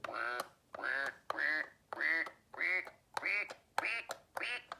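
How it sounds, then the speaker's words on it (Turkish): Eight evenly spaced electronic duck quacks from a Fisher-Price toy piano, each a bright nasal honk separated by short silences, loud and close. "Bu kısım sadece ördek sesi çıkarıyor."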